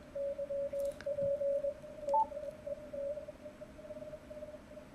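A CW Morse signal on an amateur radio receiver, tuned about 40 hertz off so the keyed tone turns into short chirps, sounds as a steady thin tone with brief blips over faint static.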